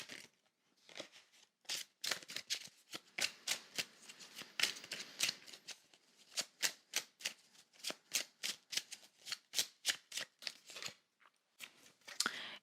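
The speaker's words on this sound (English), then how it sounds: "let's pull some tarot for the week." Tarot cards shuffled by hand in a quiet room, a long run of crisp riffling bursts in an uneven rhythm, close and fairly soft, with short pauses between passes.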